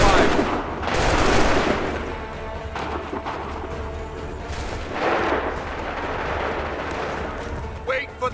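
Musket volleys and artillery fire boom in repeated bursts during a battle in Assassin's Creed III, loud crackling swells that come and go with shouted voices mixed in.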